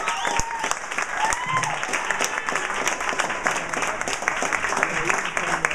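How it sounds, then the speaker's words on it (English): A comedy club crowd at the Speakeasy applauds a comedian after his set, loud sustained clapping with scattered cheers and a few voices calling out over it. "Clap! Clap for him!"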